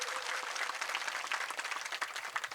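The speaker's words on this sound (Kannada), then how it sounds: "ಜೋರಾದ ಚಪ್ಪಾಳೆ ಮೂಲಕ ಮಹಾತ್ಮರನ್ನು ಸ್ವಾಗತ ಮಾಡಿಕೊಳ್ರಿ" A crowd at a farmers' irrigation protest rally in Almatti applauds to welcome a swamiji onto the stage, a steady, dense wash of clapping heard from some distance and fairly quiet, with no talking over it.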